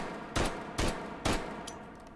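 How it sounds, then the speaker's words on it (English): Stamped M1911 pistol fired in a video game, three sharp, loud shots spaced about half a second apart, each with a short decaying tail, then a faint mechanical click. "so it should just fire like a standard M1911"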